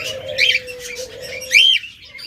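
Small cage birds chirp and squawk in a pet bird shop stocked with lovebirds, budgerigars and Java birds, two sharp bursts of high calls over a steady tone and faint background.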